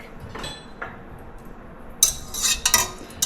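A whisk and utensils clinking against a bowl while making a low-carb two-ingredient bread, a few faint taps early on, then a quick cluster of bright metallic clinks and rattles close by.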